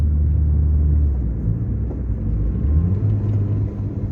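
A car engine in second gear, downshifted from third at about 50 km/h, roars in a loud low drone that rises briefly and then settles.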